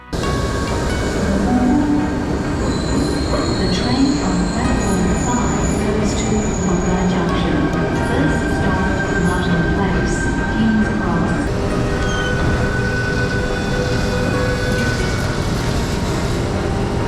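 Riding a Sydney commuter train, with a steady loud rumble of the carriage and wheels on the rails, faint squeals and hum throughout, and some indistinct voices in the background.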